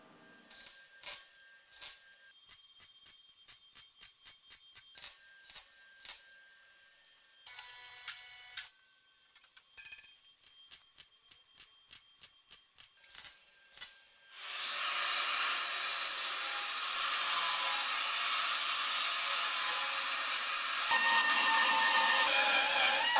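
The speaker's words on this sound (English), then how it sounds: "Now to weld the two halves together whilst they're being pinched together" Panel halves of a 36-year-old BMW E30 Touring jacking point are welded together while clamped: a run of short, sharp tack bursts gives way to a long, loud, steady crackling weld bead.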